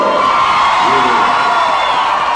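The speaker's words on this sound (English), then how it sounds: "Give a round of applause for my man," Loud crowd cheering and whooping at a club reunion show, a dense continuous roar of voices close by with yells rising over it.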